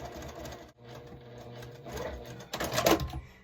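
A sewing machine stitches a quilt block in short bursts, with a brief pause and then a louder, faster run near the end, close and clear with no talking.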